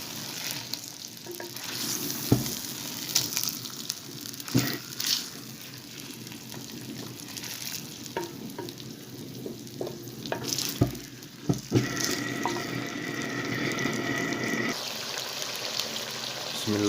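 One kilogram of chicken meat frying in a pot for a restaurant-style white chicken karahi, with a steady close sizzle broken by scraping stirs and occasional utensil knocks; no one speaks.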